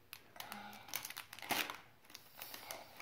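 Packaging crinkles and tears as a blind-bag toy package is opened with scissors, in a quick run of close, scattered rustles and crackles at a moderate level.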